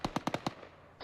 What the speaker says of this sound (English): bearing 300 has got me pretty well pinned with machine gun fire